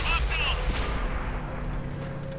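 A tank gun in the World of Tanks video game fires with a loud, booming report near the start, followed by rumbling engine and battle ambience while someone talks over it.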